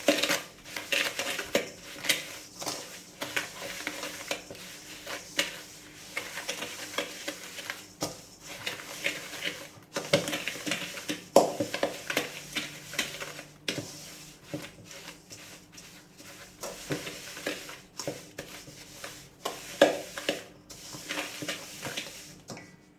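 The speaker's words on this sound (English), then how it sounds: "Cream margarine and sugar until mixture becomes light and fluffy." Margarine and sugar being creamed in a bowl for a Jamaican wine cake, giving steady, uneven scraping and knocking of a utensil against the bowl that continues close by throughout, with no talking.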